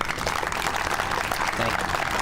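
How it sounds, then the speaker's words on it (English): A crowd at a library grand opening claps for the library commissioners, a brief, dense burst of applause with no voices. "the library commissioners deserve a big round of applause"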